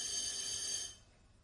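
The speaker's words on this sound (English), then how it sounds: "That's a fire alarm." A fire alarm sounds as a loud, shrill high-pitched tone for about a second, then cuts off abruptly, leaving low room noise.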